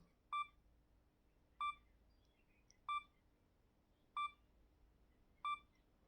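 Five evenly spaced electronic beeps from a Sony M3 camera's self-timer countdown, each a short bright tone about a second and a quarter apart, clear and close over a quiet background hum.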